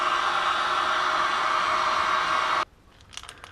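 A heat gun blows steadily and loudly on a Honda CB350 wheel hub to warm it for a bearing install, a broad hiss that cuts off abruptly near the end, leaving faint clicks and handling noises.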